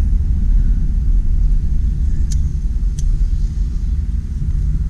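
A 1976 Chrysler Cordoba cruising along, a loud, steady low engine and road rumble heard from inside the cabin, with two faint brief clicks partway through.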